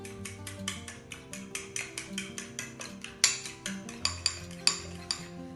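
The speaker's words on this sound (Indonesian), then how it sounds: "Ini kita aduk dengan rata seperti ini." Tofu being stirred with seasoning in a metal pan, a utensil scraping and clinking in a steady rhythm of repeated strokes, with a few sharper clanks near the end, over a faint background hum.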